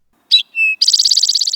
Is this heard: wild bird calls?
yes